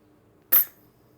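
Bolt of an HPA-powered X-68 Punisher airgun with stainless steel barrel, aired to 1100 psi, cycling once in a single sharp, close metallic snap in a quiet room.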